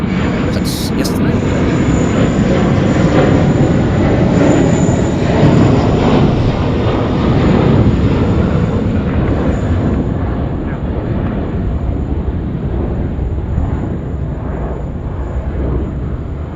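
A Qantas airliner on flight 103 departs Sydney Airport for Honolulu at night, a loud, steady jet roar that holds throughout and eases slightly toward the end, with a voice speaking over it.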